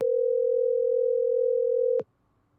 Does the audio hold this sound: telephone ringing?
yes